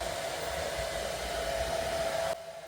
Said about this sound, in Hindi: मैं हेयर ड्रायर से थोड़ा ड्राई कर लेती हूँ बालों को